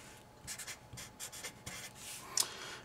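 Pen or marker strokes writing math on paper or a board, several short quiet scratching bursts in an irregular rhythm, close and faint.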